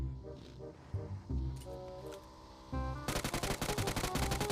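Rapid automatic gunfire in the mobile shooter BGMI, a dense fast burst of shots filling the last second and a half, preceded by scattered game sounds and thumps.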